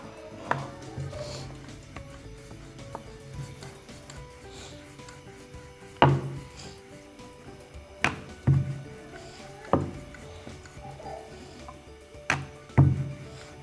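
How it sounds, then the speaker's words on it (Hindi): Rolling out methi roti dough with a wooden rolling pin, soft rubbing strokes broken by several sharp knocks as the pin is set down or tapped, repeating every couple of seconds close by. "अब रोटी को अच्छी तरह बेलें।"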